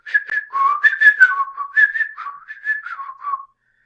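A person whistles a rapid, warbling series of high notes, imitating a samba whistle's trilling pattern, close and clear with no background.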